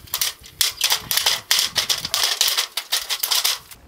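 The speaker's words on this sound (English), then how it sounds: "But I just use the snips." Tin snips cutting through a vented, lanced soffit panel for a boxed gable-end soffit on a pole barn workshop, giving a rapid series of sharp, crisp clips and crunches in quick bursts, close and fairly loud with no talking.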